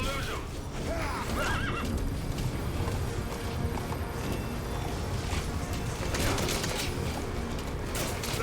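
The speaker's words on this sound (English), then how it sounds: "Now we have our exciting horse chase." Horses gallop in a chase in the video game Metal Gear Solid 5, a dense drumming of hooves with a whinny and scattered gunfire-like bursts, loud and continuous throughout.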